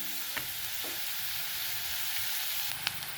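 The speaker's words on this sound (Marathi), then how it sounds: "आता हा कांदा चांगला लालसर होईपर्यंत आपल्याला भाजून घ्यायचा आहे" Onion frying in a pan until reddish for an aloo mutter bhaji, a steady close sizzle of hot oil with a few light spoon scrapes and taps from stirring, with no voices.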